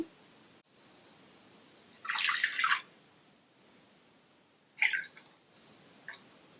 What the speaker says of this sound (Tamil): கிழங்கு முங்குற அளவுக்கு தண்ணி சேர்த்தாச்சு